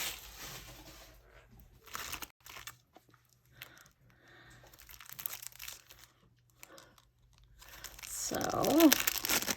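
Wrapping paper is torn and crinkled off a tarot deck close by, in intermittent bursts of crumpling and rustling that grow louder and busier toward the end, with a brief spoken word.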